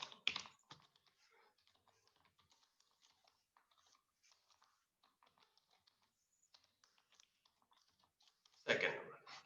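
A computer keyboard is typed on quietly, with soft scattered key clicks over several seconds. A louder burst of sound comes at the start and again near the end.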